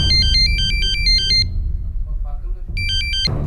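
A mobile phone's electronic ringtone chirps in a repeating pattern, stops, then starts again, ringing loud and close over low background noise.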